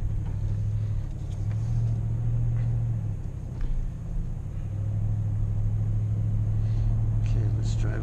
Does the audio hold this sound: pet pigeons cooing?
no